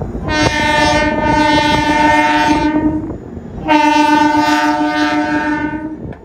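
A train horn sounds loud and near on the line toward Puri, two long sustained blasts separated by a short pause, with rail noise running underneath.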